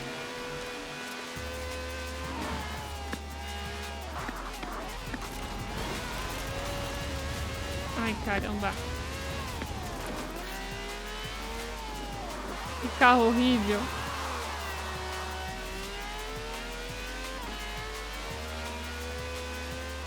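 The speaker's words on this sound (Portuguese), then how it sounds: "No clattery diesel engine here. This has a V12 with over 750 horsepower" A V12 car of over 750 horsepower races in Forza Horizon 4 while someone talks over the continuous engine drone, which climbs and falls through the gear changes. Tire noise flares briefly near the end.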